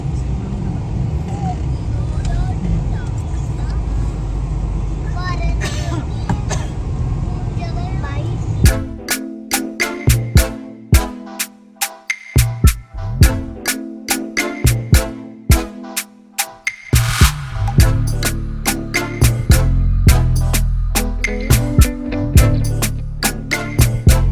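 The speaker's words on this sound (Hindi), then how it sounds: "तो जितनी उम्मीद कर रहे थे ट्रैफिक की, उससे कहीं ज़्यादा है।" Dense road traffic jam with cars, steady engine drone and hum at first, then a stretch of loud choppy bumps and handling noise as vehicles crawl past close by.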